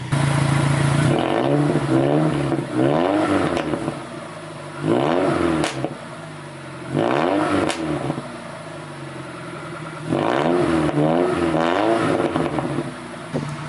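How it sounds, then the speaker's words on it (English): A car engine revs up in several loud bursts, its exhaust crackling and popping as each rev falls away between quieter idle pauses. "it's popping like a race car"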